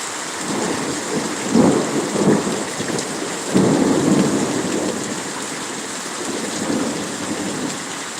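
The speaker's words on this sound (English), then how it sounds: "It is raining so hard right now." Heavy rain pours down steadily on surfaces while deep thunder rumbles swell twice and fade, loud and close, with no voices.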